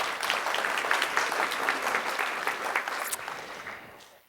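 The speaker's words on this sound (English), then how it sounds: "So just a round of applause for her." Audience applause at a physiotherapy association's annual general meeting and awards, honoring a departing committee member: a dense, steady wash of many hands clapping that holds for about four seconds, then thins and fades away.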